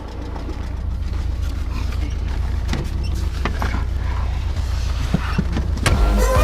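A car engine runs steadily with a loud low rumble as the car pulls away in Venezuela, carrying ten 25-litre loads, with clicks and rattles from the cabin and no talk.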